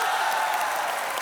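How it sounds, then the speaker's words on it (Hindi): A studio audience at a comedy talk show greets a playback singer and her husband with steady applause, a dense even patter of clapping throughout the short burst. "जोरदार तालियों से स्वागत कीजिए हमारा।"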